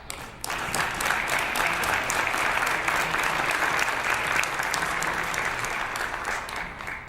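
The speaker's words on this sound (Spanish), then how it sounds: "Bueno, pues un aplauso." Sustained audience clapping closes a conference session, a dense patter of many hands with crisp individual claps standing out, steady and moderately loud throughout.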